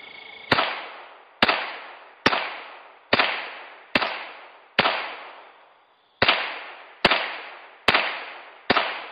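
Ten loud gunshots fired at a shooting range target in a rhythmic series roughly a second apart, each a sharp crack with a decaying echo, one longer gap midway, no talking.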